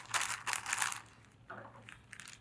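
Thin plastic sheet crinkling as a fold is opened during a craft build for an electric hovercraft, two crackly bursts with a quiet pause between them, close and fairly soft.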